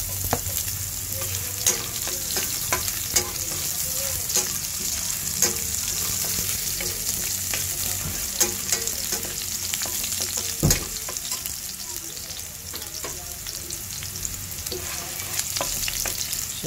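Ginger being stir-fried in a pan for tuna adobo sa gata, a steady close sizzle broken by repeated clacks and scrapes of a spatula, one sharper knock standing out midway.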